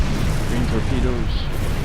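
Photon torpedoes fire and burst in a space battle in Star Trek Online: a dense, steady roar of blasts and booms with faint tonal sweeps and a voice-like murmur underneath.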